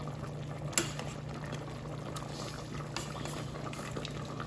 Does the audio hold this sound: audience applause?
no